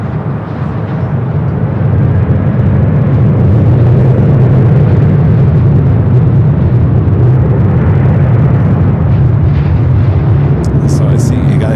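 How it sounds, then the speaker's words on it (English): A Boeing 787 Dreamliner takes off at LAX, a loud continuous jet roar with deep rumble that holds steady across the runway. "the Dreamliner up and next for takeoff"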